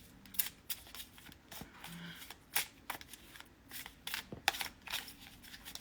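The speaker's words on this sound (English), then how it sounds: "Let's give it a shuffle." A deck of tarot cards is shuffled by hand in a quiet room, with soft repeated riffling and papery snaps in uneven bursts, close and fairly faint.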